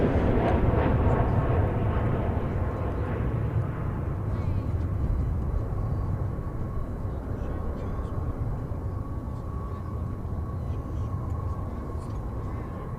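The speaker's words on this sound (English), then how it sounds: "So the flight we caught headed off into the sky there was flight 2635 to Ontario, California." Airliner taking off from DFW airport, a broad, distant jet roar that slowly fades as it climbs away, with soft talking in the background.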